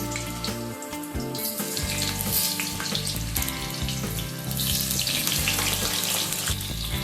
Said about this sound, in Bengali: তেল গরম হয়ে গেলে আলু দিয়ে দিচ্ছি।